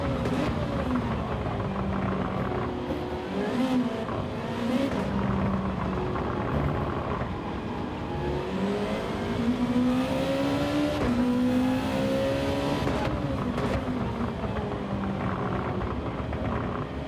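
Race car engines from a night race in Gran Turismo 7 rise and fall through revving and shifting, a continuous loud drone with climbing and dropping pitch sweeps as cars accelerate and back off.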